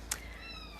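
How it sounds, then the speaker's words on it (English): A stray cat at an animal clinic gives a single short, soft meow nearby against a quiet background hum. "This is a stray cat who lives next door"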